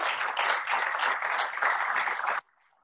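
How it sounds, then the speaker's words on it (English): A burst of audience applause, dense and lively, that stops abruptly, leaving near silence. "Let's give Sean a round of applause."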